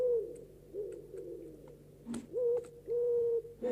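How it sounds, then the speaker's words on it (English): An owl hoots repeatedly at close range, a series of low, steady tonal calls in an uneven rhythm with short pauses, standing alone without voices. "owl, Hoots"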